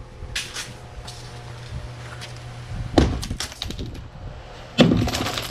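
Demolition of an outdoor bar with tile and glass brings a few sharp cracks and clattering impacts, including two louder hits near the middle and end, over a quiet background.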